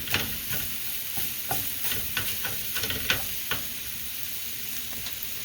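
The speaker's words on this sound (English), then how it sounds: "we're just making a simple roux, and you want to cook the flour a bit for a few minutes" Flour roux cooking with browned sausage in a pan for country sausage gravy, a close, continuous sizzle broken by repeated scraping and tapping as it is stirred, with no voices.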